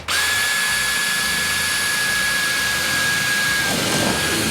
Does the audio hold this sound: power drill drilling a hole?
yes